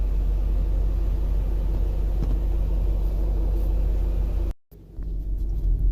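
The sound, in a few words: 2001 BMW X5 4.4l driving on test drive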